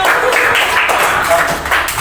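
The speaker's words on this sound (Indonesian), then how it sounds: "Tepuk tangan dong." Children in a classroom clap their hands together in a dense, continuous round of applause, loud and close, lasting the whole moment.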